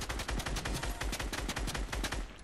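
Rapid bursts of automatic gunfire in a shooter video game, a dense run of sharp shots fired back to back, loud and close, with no talking.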